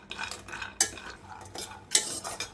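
A utensil scrapes and clinks against a pan in short rhythmic strokes, with light rattling of cashews being stirred and roasted over a low flame.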